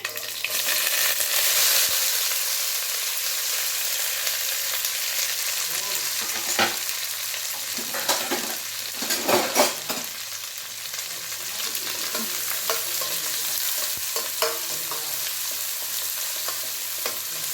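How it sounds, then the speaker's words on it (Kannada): Onions, green chillies and curry leaves fry in oil with a loud, continuous sizzle lasting many seconds, joined midway by a cluster of scraping and clinking stirring strokes, then occasional lighter taps as the hiss carries on. "ಈರುಳ್ಳಿ ಚೆನ್ನಾಗಿ ಫ್ರೈ ಆಗಲಿ ಎಣ್ಣೆನಲ್ಲಿ."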